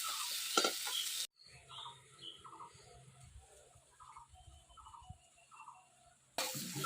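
Banana flower frying in a pan in a village kitchen gives a loud, steady sizzle at the start, a quieter stretch with bird chirps and soft ticking, then the sizzle surges back at the end.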